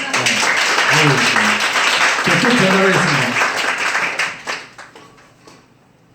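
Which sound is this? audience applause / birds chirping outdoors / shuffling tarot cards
audience applause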